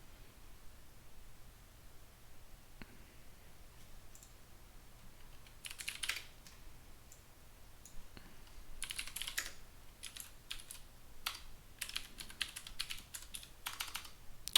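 Light clicking of a computer keyboard as a telnet command is entered, with scattered bursts of keystrokes over faint background hiss, close and quiet.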